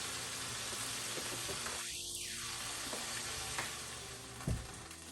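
Peanut chicken sizzles steadily in a hot pan, a constant close frying hiss broken by a couple of soft clunks.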